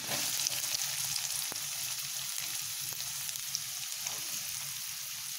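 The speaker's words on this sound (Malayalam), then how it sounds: "നമുക്കിതിലേക്ക് സവോള ഇട്ട് കൊടുക്കാം." Onion sautés in a pan with ginger, green chilli and garlic, giving a soft, continuous hiss with a few faint clicks of stirring, close but quiet and without speech.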